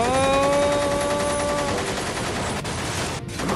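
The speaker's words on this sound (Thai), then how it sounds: "สมบี้บุกคุณทองเราต้องยิงนะ เอายิงเลย" Rapid gunfire from a toy or game weapon shooting zombies rattles loudly and continuously, with a falling electronic tone at first, then a sustained noisy burst and a couple of sharp cracks near the end.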